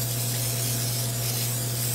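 A steady hiss of cooking spray sprayed into a pan, close and continuous for about two seconds with no pauses.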